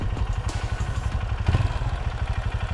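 Motorcycles arriving at a tourist spot chug in close and loud with a steady, pulsing idle, throttle blips and rattly clatter, no talk.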